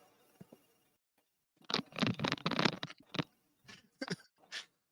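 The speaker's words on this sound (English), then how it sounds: "I muted because I was chewing on my orange" Close, wet crunching as someone chews an orange, several bursts of biting and mastication with short pauses between, no voices.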